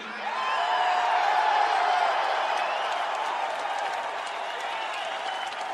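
A large crowd roars and applauds at Rush's Rock and Roll Hall of Fame induction ceremony, a sustained, dense wall of clapping, whoops and cheering that swells early and stays loud throughout.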